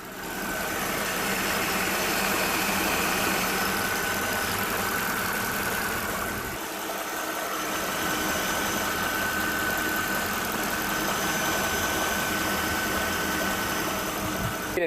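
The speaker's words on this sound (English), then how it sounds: "I want you to really hear the engine" Steady, close idle of a Mercedes S550 engine, an even mechanical hum and whir held for about fifteen seconds with a brief dip near the middle, no talking over it.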